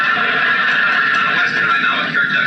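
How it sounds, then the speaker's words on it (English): A horse neighs in a sustained, bright whinny that holds steady and loud for the whole stretch, heard alone without talk. "I sure want to thank you for getting me such a good horse."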